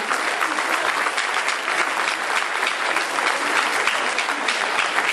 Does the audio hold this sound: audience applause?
yes